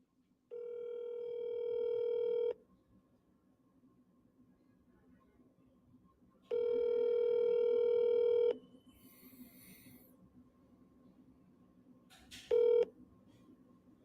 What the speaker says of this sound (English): Let's call him.